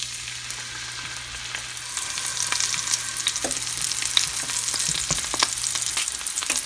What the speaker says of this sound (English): they should be sizzling when they go in